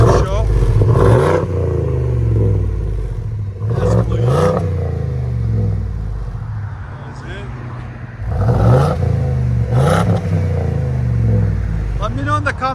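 A Ford F-250 pickup with a 7.3L Godzilla V8 and a deleted muffler revs in several deep, throaty bursts, with people talking over and between the revs.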